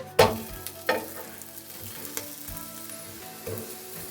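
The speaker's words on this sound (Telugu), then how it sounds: "కొద్దిగా ఆయిల్ వేసుకోవాలండి చుట్టూ కూడా ఆయిల్ వేసుకుందాం కాల్చుకోవాలి" A drumstick-leaf ragi roti frying in oil on a pan, with a soft steady sizzle and a few sharp scraping knocks of a spatula against the pan.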